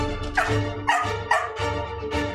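A small West Highland Terrier barks repeatedly and sharply, about four or five yaps in quick succession, close by, over a low steady hum.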